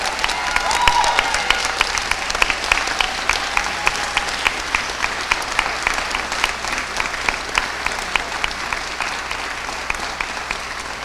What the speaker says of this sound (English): let's give a warm round of applause to our 12 seniors who are graduating with honors